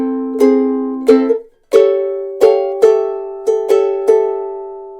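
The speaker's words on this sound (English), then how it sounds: "the transition from the last chord change in the first part to the bridge would sound like this" Solo chord melody on guitar passing from the final chord change of the first part of a song into the bridge, with about eight distinct strummed chords ringing out one after another, near and clear.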